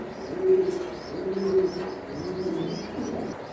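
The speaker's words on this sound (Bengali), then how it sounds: "এই যে দেখেন কতটা কোয়ালিটি ফুল কবুতর" Racing pigeons at a farm of more than 400 pairs coo in soft, repeated low calls, with a few light chirps layered above. The birds sound close, and no one speaks.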